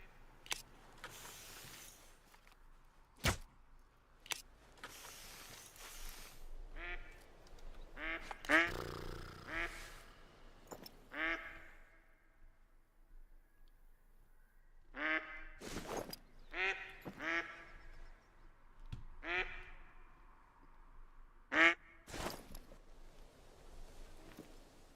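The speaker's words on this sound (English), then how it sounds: "Three groups of ducks coming in one go." Groups of ducks quack in scattered bursts across a long stretch, some calls clustered and overlapping, others single, with quiet gaps and occasional sharp clicks between them.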